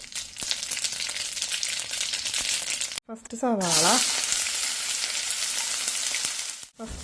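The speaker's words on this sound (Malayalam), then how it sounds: "ഒരു പാനിലേക്ക് കുറച്ച് വെളിച്ചെണ്ണ ഒഴിച്ച് വെളിച്ചെണ്ണ ചൂടാകുമ്പോൾ അതിലേക്ക് കടുകിട്ട് പൊട്ടിക്കുക." Mustard seeds crackle and splutter in hot coconut oil in a pan, with a steady loud sizzle throughout, a brief break partway, and a short voiced exclamation over it.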